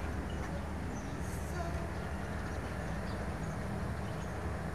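Mutiara Selatan executive passenger train running through mountains between Tasikmalaya and Bandung, heard from inside the restaurant car as a constant, dense rolling rumble with steady rattle throughout.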